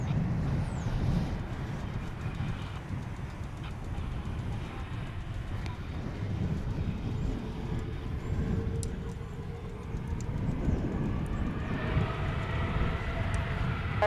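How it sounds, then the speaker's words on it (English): A 19-year-old American Boeing 777-200 takes off from runway 18 left at Dallas/Fort Worth, a broad low jet roar rising and swelling at a distance, with wind noise and radio chatter. "There's a 777-200 on its way to London town."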